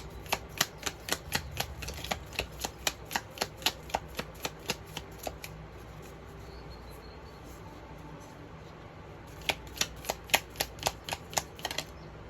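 Healing crystal oracle cards are shuffled in quick, crisp riffling bursts, a long run of sharp rhythmic card snaps, a pause, then another flurry, close and clear with no talking.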